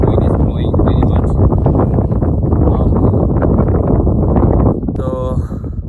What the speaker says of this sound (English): The wind is blowing very much.